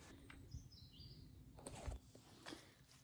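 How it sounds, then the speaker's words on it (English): Birds chirp faintly outside a carpentry workshop, a few short high calls spread across several seconds over quiet background noise, with no talking. "Oh, you can hear the birds."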